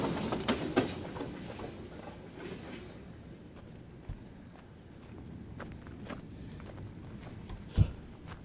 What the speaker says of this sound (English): there is a locomotive behind me, and most likely they noticed us